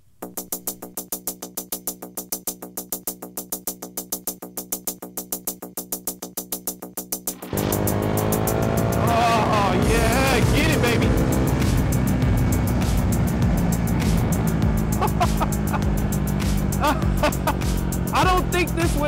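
A KTM Duke 390 single-cylinder motorcycle engine idles with a rapid, even thumping pulse, then revs up into a loud, sustained roar for the rest of the run, close to the listener.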